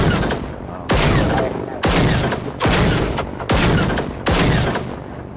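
A run of six loud, booming explosions in Generation Zero on Xbox One, each hitting hard and decaying before the next, spaced close together in quick succession.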